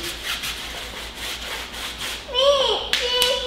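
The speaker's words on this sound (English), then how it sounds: "I'm gonna get some rubber cleaner, clean some of this factory gunk off the tires." A brush with rubber cleaner scrubs the tires of a 2019 Camaro SS in a steady series of close, rhythmic rubbing strokes, followed by a few sharper squeaks and scrapes.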